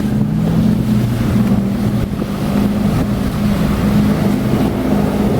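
A gasoline motor yacht, apparently a Silverton, drones steadily as it passes, with wind buffeting the microphone and water washing nearby.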